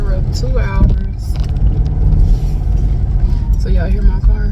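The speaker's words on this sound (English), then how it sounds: "So y'all hear my car?" A car that needs a tune-up runs with a rough, rumbling engine drone close by, heard under a person talking.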